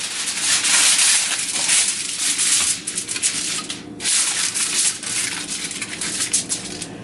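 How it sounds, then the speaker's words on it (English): Aluminum foil crinkling and rubbing as it is spread over a baking sheet, a continuous close rustle with a couple of short pauses, no talking. "cover it in aluminum foil just to make cleanup a lot easier to deal with"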